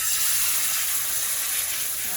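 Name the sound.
chicken sizzling in a pot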